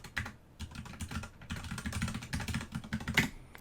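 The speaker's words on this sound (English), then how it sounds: "let me type in my password" Password typed on a computer keyboard, a quick, close run of soft key clicks tapping in an irregular rhythm for a few seconds, no talking.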